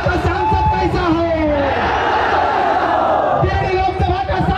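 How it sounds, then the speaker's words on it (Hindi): Loud, dense rally crowd in Giridih, Jharkhand, roaring and cheering continuously, with bursts of whooping and shouting that swell near the end; no distinct clapping stands out. "आप जोरदार तालियों से उनका इस्तकबाल करें"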